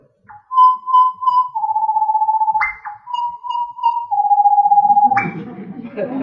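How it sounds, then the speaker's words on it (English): Rufous-and-white wrens duet in clear, pure whistled phrases, alternating steady tones with quick upward slurs, loud and close, with a soft noisy background rising near the end. "this is the call of the rufous and white wren"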